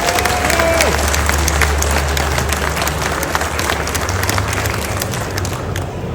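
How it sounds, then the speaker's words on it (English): A crowd at a Scottish motorcycle show claps and cheers as two racers walk on stage, a dense, loud, continuous wave of applause that stays steady throughout. "Can we have a nice big round of applause"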